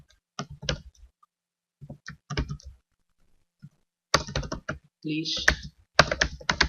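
Typing on a computer keyboard while writing code, with short bursts of clattering keystrokes separated by pauses and a few denser runs later, close and clear, with brief speech in between.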